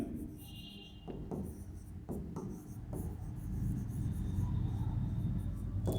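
Pen writing by hand on paper or a board during an accounting lesson on debenture redemption, faint scratchy strokes with a few sharper taps over a low background rumble.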